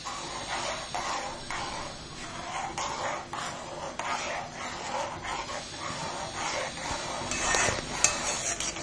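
Almond halwa being stirred and fried in a pan gives soft, rhythmic scraping strokes over a low, steady sizzle, heard close and alone.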